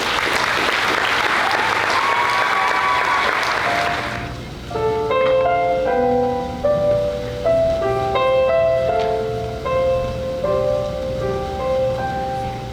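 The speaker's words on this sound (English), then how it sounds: "Please give yourselves a round of applause" Audience at a Sulphur Springs school district convocation bursts into loud, dense applause for about four seconds, then it stops and gentle piano notes take over.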